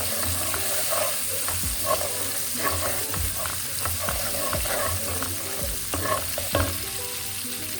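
Ginger, garlic and chili frying in a pan, a loud continuous sizzle and hiss with scattered stirring scrapes and crackles throughout.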